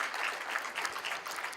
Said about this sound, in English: let's give each other a good round of applause for that.